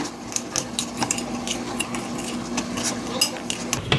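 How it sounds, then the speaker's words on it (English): A vegan dessert mixture with vanilla being beaten in a bowl with a utensil instead of a whisk, producing rapid, close scraping and clinking strokes in a steady rhythm, with no talking. "Just keep whisking together until it is well combined"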